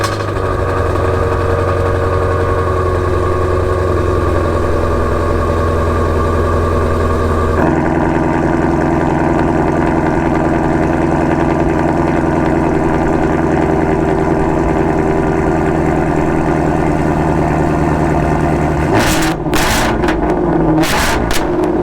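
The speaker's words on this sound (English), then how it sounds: "it completely changed the exhaust note of the car. So it gave it this kind of unique sound, which honestly I love." A stock car exhaust idles at a Charlotte cars and coffee meet, a loud steady low rumble that shifts to a slightly different tone partway through, with brief sharper bursts near the end.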